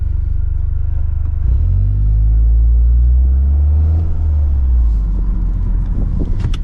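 A 2025 Toyota GR Corolla with the 8-speed automatic rumbles at a low idle, then the engine swells in a deep rising rev before easing off again, loud and close.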